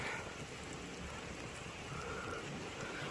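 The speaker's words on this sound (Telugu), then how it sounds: "ఒక పక్క వర్షం పడుతుంది." Steady rain falling along a road between Guwahati and Kaziranga, a continuous even hiss of drops filling the background with no voices.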